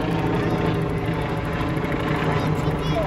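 A helicopter flies over Central Park in New York, heard from a moving bicycle as a steady, loud, broad rotor drone that lasts the whole time without letting up.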